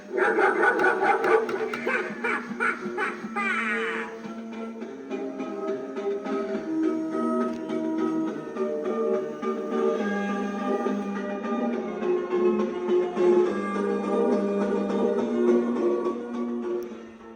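A Lowe's 2026 balloon dog clown animatronic barks electronically through a steady stream of tonal, music-like playback that runs continuously and fairly loud for the whole stretch.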